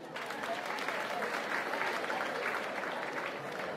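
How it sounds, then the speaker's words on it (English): A school crowd clapping for students, a dense, even roar of many hands applauding continuously for a few seconds at a moderate distance. "Can we clap for them?"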